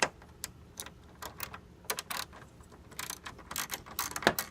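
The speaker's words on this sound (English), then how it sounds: "Remove these two bolts like I was mentioning before, these two 10mm bolts." A ratchet loosens the 10mm bolts on the headlight assembly of a GM Chevrolet Cobalt, giving close, crisp clicking bursts in short runs with brief pauses between them.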